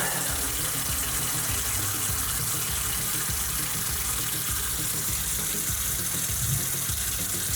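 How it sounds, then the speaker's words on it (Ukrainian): Tap water runs steadily at full flow, turned on to fire up a gas boiler, a continuous even gush with no talk over it. "Давайте покажу вам, увімкну водичку."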